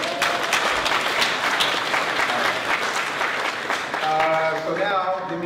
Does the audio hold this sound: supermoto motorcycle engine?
no